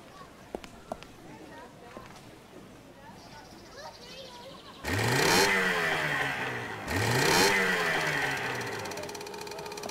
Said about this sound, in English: The engine works.